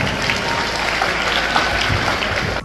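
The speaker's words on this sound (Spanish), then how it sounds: "que este aplauso sea para ellos" Loud, dense applause fills an outdoor gathering at a primary school celebrating a new perimeter wall, sustained evenly before cutting off abruptly.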